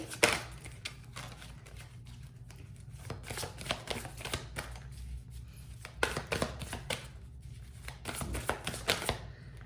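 A deck of tarot cards is shuffled over and over, with soft riffling bursts and papery slaps in an uneven rhythm, close and fairly quiet, with no voices.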